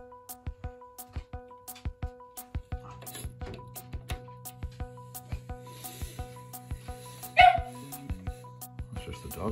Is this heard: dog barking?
yes